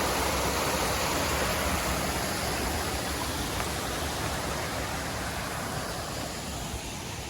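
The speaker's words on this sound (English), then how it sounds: "And there's a cool little sort of waterfall." A small waterfall on the Appalachian Trail pours into a deep pool, making a steady, dense rushing hiss that holds constant and close, with no voices over it.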